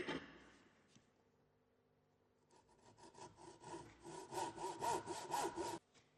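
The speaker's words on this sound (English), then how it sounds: "placing the timber vertically in the vise to follow the saw cuts down to the shoulder lines" Hand saw cutting a timber tenon held upright in a vise, a rapid run of rasping back-and-forth strokes that grows louder and more forceful before stopping abruptly, with quieter scraping at the start.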